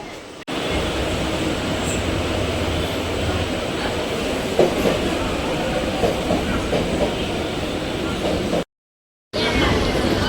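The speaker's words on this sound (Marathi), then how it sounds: "आम्ही लोकांनी पण ट्रेन पकडली मरीन्सला जाण्यासाठी" A Mumbai local train runs at speed with a loud, continuous rumble and rattle of wagons from inside the carriage, broken by a brief cut near the end.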